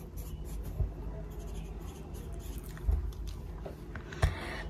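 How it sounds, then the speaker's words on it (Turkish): A pen writing numbers on paper at a study desk gives soft, close scratching strokes, with a few sharper taps as digits are finished, quiet and without voices. "Sabahki sayıların aynısını yazıyorum."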